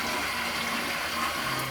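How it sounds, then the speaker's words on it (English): In a hotel bathroom in Japan, a toilet flushes with a continuous, loud rush of water that lasts the whole stretch, close and steady, with no voices. "let's do the flush test"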